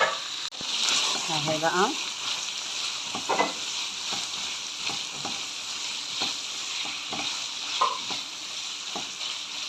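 Liver fries with garlic cloves in a dished street-style pan, a continuous oily sizzle with intermittent stirring scrapes and clacks; someone speaks briefly near the start.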